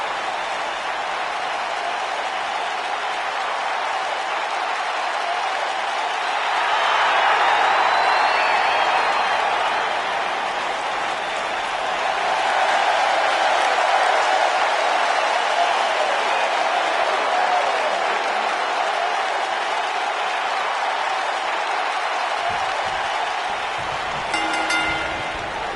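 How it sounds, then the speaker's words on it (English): A wrestling arena crowd in the video game WWE 2K19 cheers in a continuous broad roar that swells twice, with no talk over it. "Listen to this crowd, guys. They're fired up for this one."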